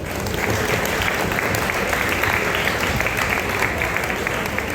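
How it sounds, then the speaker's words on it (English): Loud, dense applause from an audience at a sports team launch event in Mumbai, honoring the parents present, a close, continuous wash of clapping that holds steady throughout. "a round of applause please"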